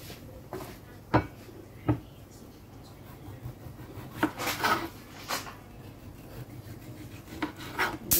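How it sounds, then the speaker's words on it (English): A kitchen knife cutting through a tomato on a board, giving faint rasping strokes and a few sharp taps against the board, spaced irregularly over several seconds with soft background noise. "Got our tomato, we're going to cut that."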